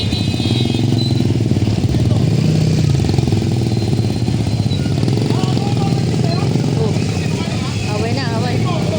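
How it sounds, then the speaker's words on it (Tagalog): Busy street traffic in front of a shop, motorcycles and cars passing close by in a continuous loud engine roar with rising and falling revs, while people talk over it. "Dami ng motor. Dami sasakyan. Traffic na, traffic."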